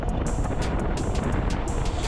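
Steady wind rushes and buffets against the microphone while riding a budget e-bike on the road, a loud constant roar with brief gust surges throughout and no speech.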